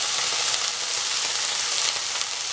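Tomatoes frying in a pan for tomato pulao, giving a dense, even crackling sizzle that stays loud and unbroken, with no voices.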